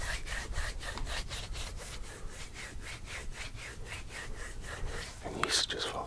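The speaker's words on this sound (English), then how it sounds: "I used to like just rub my hands together like this." Heavily calloused hands rub briskly together up close, a rhythmic series of rough, dry swishes, about three per second, quiet and intimate in an ASMR setting, ending with a slight clap.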